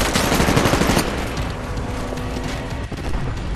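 A silenced gun with a holoscope fires in the video game Titanfall, rapid muffled shots in a dense burst that thins into scattered firing and ambient game noise.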